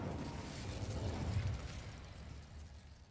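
Incendio fire spell cast in the video game Hogwarts Legacy, a rumbling, fiery burst that swells near the middle and then trails off into a low roar, heard alone without talk.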